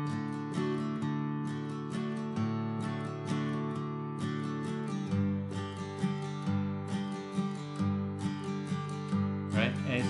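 Acoustic guitar strummed in a steady down-up pattern for a country-rock song, bright chords ringing in a repeating triple-feel rhythm, played alone without talk.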